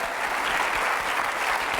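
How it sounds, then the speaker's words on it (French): TV game show studio audience applauding a contestant named Salim, a loud, dense roar of clapping that holds steady for its brief duration, with no pauses or talk standing out. "je voudrais qu'on applaudisse très très fort l'ami Salim"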